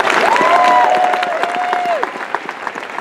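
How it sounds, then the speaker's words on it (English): Crowd applause at a Busch Gardens Williamsburg park event, a dense steady wash of clapping that holds strong and then thins slightly, with a whistle-like tone gliding over it. "let's give a big round of applause for Larry Giles"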